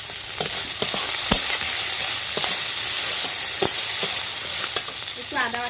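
Spices, chopped onion, garlic and green chillies fry in a pan with a loud continuous sizzle and crackle, broken by sharp clicks of a utensil stirring against the metal.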